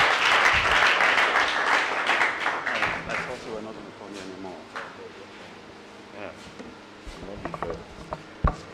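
Audience clapping at a secondary school debate rings out fairly loud, then thins and fades as murmuring voices and room sounds take over.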